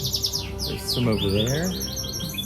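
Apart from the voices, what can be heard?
birds chirping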